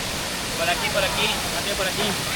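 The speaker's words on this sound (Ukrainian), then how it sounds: "Найпопулярніше місце це водоспад" A steady broadband rush of a waterfall in a park fills the clip, loud and constant, with a person talking faintly over it.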